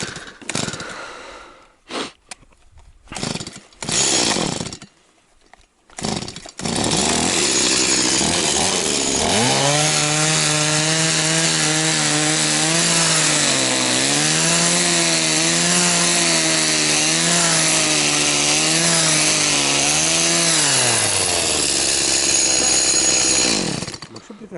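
Chainsaw-engine ice auger running out on the ice while fishing: a few short revs and pulls, then a loud, steady engine drone that rises and wavers as it drills, close by.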